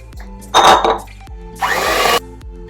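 An electric mixer working through red velvet cake batter in two short, loud bursts of whirring, each lasting about half a second, separated by quiet.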